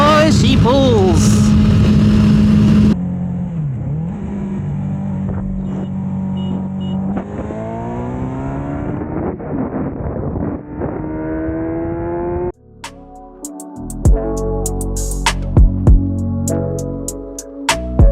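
Suzuki GSX-R sport motorcycle engine revving and accelerating loudly and close, with rising and falling engine tones through most of the run; a harsher burst comes near the end and speech overlaps parts of it.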